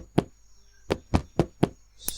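Five sharp knocks ring out in an uneven pattern, one alone and then four in quicker succession. The knocks are close and distinct against quiet, with a faint crackle at the end.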